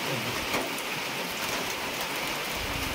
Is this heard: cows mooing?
no